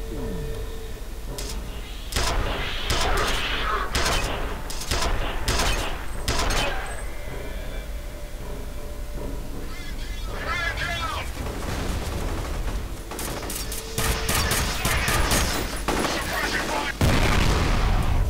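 Impact grenade blasts and rapid gunfire in the shooter game F.E.A.R., a dense run of sharp bangs and bursts with a speaking voice heard amid the combat.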